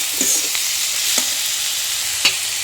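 Spice paste frying in a pan, with fish and red amaranth stem pieces, hisses steadily at close range while a few spatula scrapes and taps cut through.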